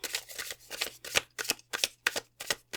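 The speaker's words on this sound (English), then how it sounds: "I got distracted by shuffling the cards." Tarot cards being shuffled close up, a run of about eight to ten quick crisp riffling bursts separated by short pauses, with no talk.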